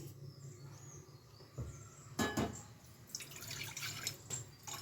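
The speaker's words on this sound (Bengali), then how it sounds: "দেখো এই পরিমাণে আমি জল দিলাম।" Water is poured into a karahi on a lit gas stove while cooking greens, with a brief splash followed by a longer stretch of gurgling, splashing pouring at close range.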